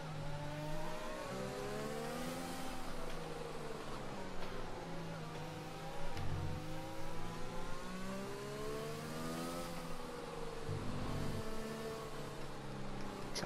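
A Mercedes Formula 1 car in the F1 2020 racing game during qualifying, its engine note rising and falling with harmonic sweeps as it passes, other engine drones sustained underneath, moderately loud and steady throughout.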